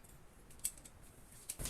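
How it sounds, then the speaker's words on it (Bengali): Scissors cutting fabric for a baby frock: two or three faint, crisp snips, close and quiet against a low hiss. "এখন আমরা তালপাটের অংশটা কেটে নিব।"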